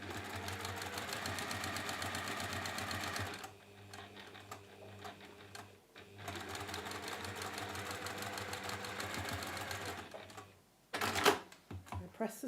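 A sewing machine runs in steady bursts while stitching quilt fabric squares for a zig zag quilt, a fast rhythmic whirring chatter that stops and restarts, with a quieter pause and a brief clunk near the end.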